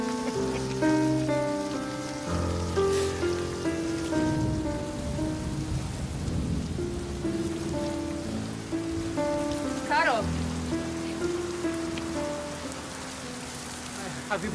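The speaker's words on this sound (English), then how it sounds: "Have you been waiting for me in the rain all this time?" Steady rain falls throughout, a dense even patter with a faint low rumble underneath, blended with sustained orchestral music; no speech.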